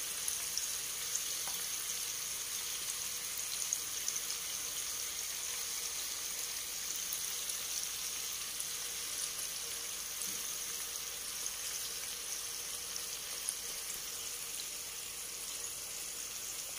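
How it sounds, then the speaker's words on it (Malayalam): Prawns frying in oil for a Kerala-style prawn roast, a steady soft sizzle and crackle throughout, close and even with a few faint pops and no talking. "ഇനി ഇതുപോലെ തന്നെ ബാക്കിയുള്ളതും കൂടെ അങ്ങോട്ടും ഇങ്ങോട്ടും തിരിച്ചിട്ട് ഫ്രൈ ചെയ്ത് എടുക്കണം"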